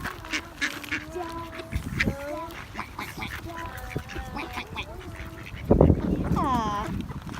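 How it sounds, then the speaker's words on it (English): Ducks and Canada geese being fed outdoors give repeated nasal quacks and honking calls, with a louder goose honk near the end, while people talk nearby. "We've never seen geese this close. You see the Canada goose?"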